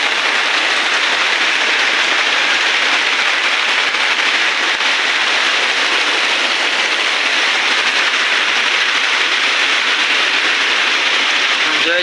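Torrential rain drums steadily on the ground and surfaces close at hand, a thick unbroken wash of noise holding the same loud level for the whole stretch.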